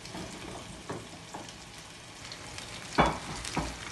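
Skate fish fillets frying in a hot pan give off a soft, continuous sizzle, with a few light scrapes and a brief louder crackle near the end, close but fairly quiet, with no voices.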